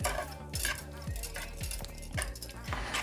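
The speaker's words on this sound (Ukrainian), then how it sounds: "Так, і перемішую, легенько перемішую, щоб рівномірно розподілилися вершки по всій суміші." Sausage and cheese muffin batter with cream being gently stirred in a bowl, with quiet, rhythmic scrapes and clinks of a utensil repeating about twice a second.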